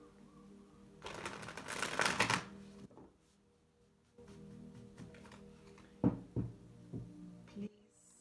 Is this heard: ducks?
no